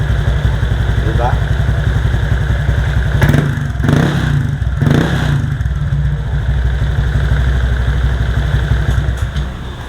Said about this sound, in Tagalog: Maganda pa rin yung tunog ng pipe natin